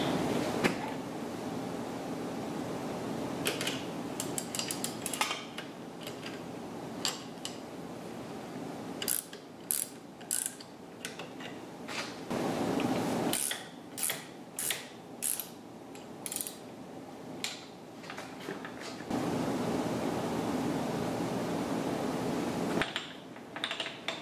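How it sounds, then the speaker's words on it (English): T-nuts are tightened on a BS-1 dividing head, heard as bursts of close metallic ratcheting clicks in quick runs, separated by pauses and broader grinding stretches, with no talk. "And that's after tightening the T-nuts."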